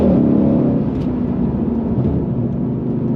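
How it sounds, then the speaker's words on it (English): A Ford Shelby GT350 Mustang engine, heard from inside the cabin, drones loud and steady with rises and falls in pitch as it auto-blips on downshifts. "Don't know if the auto blipping's coming across on the camera, but it sounds tremendous in here"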